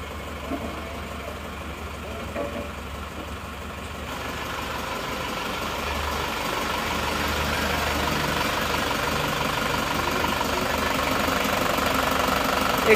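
An Isuzu Panther diesel engine idles after a cold start, a steady close rattling clatter that grows slightly louder over time.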